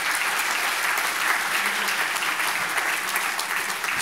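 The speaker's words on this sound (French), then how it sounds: "On peut applaudir." Sustained applause from an assembly audience at a general meeting, a continuous dense patter of many hands clapping at even loudness throughout.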